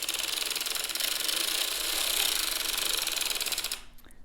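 A hand-cranked circular knitting machine clatters rapidly and steadily as rows of yarn are cranked for a scarf, a close, even mechanical rattling that stops abruptly near the end.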